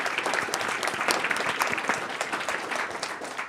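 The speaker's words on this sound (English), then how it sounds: "I just would like to give you all a hand of applause" An audience claps steadily after a talk on research in pandemic and epidemic intelligence, a busy, close crackle of many hands that holds at an even level throughout.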